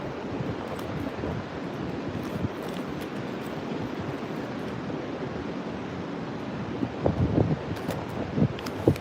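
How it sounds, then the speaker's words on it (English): Steady wind buffeting the microphone at a beachfront, a continuous broad rushing roar with a few gusty bumps near the end and no voices. "Because the wind has me effed up."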